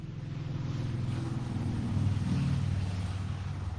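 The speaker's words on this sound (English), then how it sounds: "I'm so glad you guys get to hear the traffic going by." Road traffic with motorcycles passes by outdoors as a low, continuous rumble that swells slightly midway, with some wind noise, moderately loud and unaccompanied by talk.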